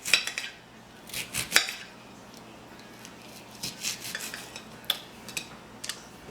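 Knife cuts through hot jalapeno peppers from the garden on a cutting board, giving scattered crisp chops and soft scraping strokes up close, irregular and unhurried, with no talking.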